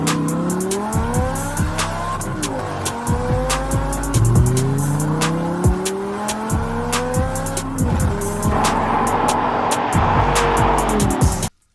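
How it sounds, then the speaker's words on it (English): An Audi R8 GT Spider drives hard, its engine revving loud and close through repeated rising pulls broken by sharp downshifts with throttle blips, the tone dropping and climbing again for nearly twelve seconds before cutting off abruptly. "here's a quick clip of the R8 GT Spider for you"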